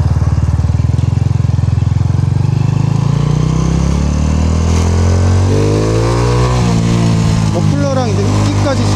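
Motorcycle fitted with a Yoshimura GP Magnum muffler, its exhaust loud and close as the engine revs and rises steadily in pitch, with a steady low drone throughout and no talking.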